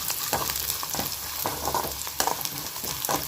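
Ingredients sizzle in a hot pan for a lunch-box rice and potato fry, with steady crackling broken by sharp spatula scrapes and stirring knocks.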